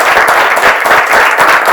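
Dense, continuous applause from a studio audience at the close of a talk show, loud and steady throughout with no voices above it.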